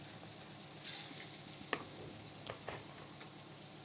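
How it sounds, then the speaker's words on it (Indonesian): Tofu patties (perkedel tahu) fry in hot oil with a soft continuous sizzle, broken by a few sharp pops and spatters; no one speaks. "Nah ini saya goreng ya teman-teman."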